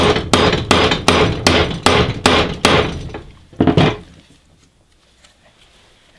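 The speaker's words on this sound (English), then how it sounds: "I'm just going to hammer that flat." Aluminium pop rivets are hammered flat on a small steel plate at the back of a bench vise: about eight sharp, evenly spaced metallic blows, then a quick double strike before the noise fades to quiet.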